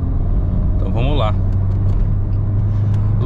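Renault Sandero RS with a 2.0 engine running on ethanol and accelerating hard, a loud, steady low engine drone inside the car, with a brief voice about a second in.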